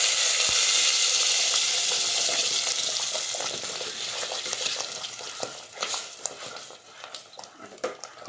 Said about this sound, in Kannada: ಕೊತ ಕೊತ ಅಂತ ಕುದಿಯೋಕ್ಕೆ ಶುರು ಆಗ್ಬಿಡ್ತಿದ್ದು